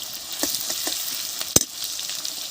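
Cumin seeds with onion-garlic paste temper in hot oil for a village-style jackfruit curry, giving a soft, constant high sizzle with small crackles and one sharp pop, and no talking.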